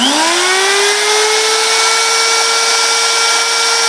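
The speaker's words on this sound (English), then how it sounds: "So when the shaft is turning, and the die grinder is turning, which happens like this." A die grinder spins a shaft on a crude homemade lathe for turning Corian, its whine rising in pitch as it spools up, then holding a steady loud high tone with bright harmonics and no talking.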